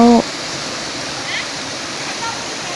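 A steady, broadband roar of falling water from Mae Koeng Luang waterfall fills the scene, constant and fairly loud, with a brief voice fragment at the very start.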